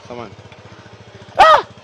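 A boda boda motorcycle taxi engine putters in a steady, rapid idle throughout, close and moderately loud, with a short burst of speech partway through.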